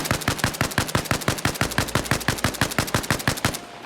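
Steady full-auto bursts from a Metro rifle in Arma Reforger, roughly two dozen evenly spaced sharp shots in a brisk, regular rhythm, loud and close, stopping abruptly near the end.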